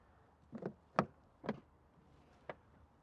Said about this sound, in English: the SE's got soft closed doors too, so you get back home, you don't want to wake the missus up, push it to like so, and it shuts